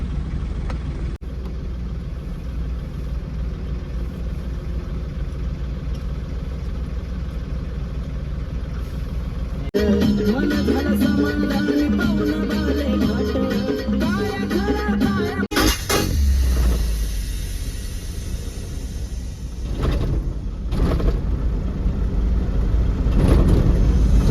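A cargo truck idles with a low, even engine rumble, then sets off as the motor note rises and strengthens into a louder, rougher drive that keeps building toward the end; no one speaks.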